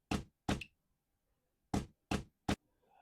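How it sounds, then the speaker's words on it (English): A short percussion loop for Afro tech house plays five dry, close knocking hits in an uneven pattern, two early, a gap, then three in quick succession, with no voices. "I have a percussion loop here."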